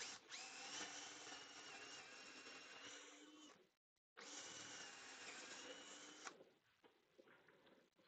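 A power drill bores a hole about an inch wide into a workpiece in a shop, whining steadily in two close bursts with a short pause between, then a few faint clicks and handling sounds.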